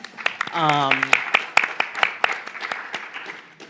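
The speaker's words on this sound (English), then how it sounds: "let's give Rose a round of applause" Panel discussion audience applauding a speaker named Rose, a scattered round of clapping with a voice calling out briefly near the start.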